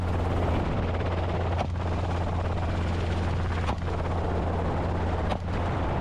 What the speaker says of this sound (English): the rotor blades kicking up grass and dust, pressuring the herd.